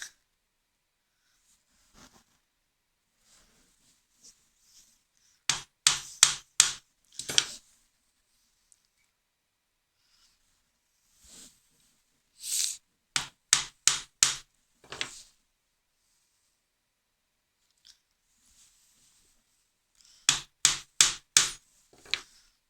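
Chisel struck with a mallet to cut a stopped housing joint along a knife line in wood, with three bursts of four or five sharp, close taps separated by near silence.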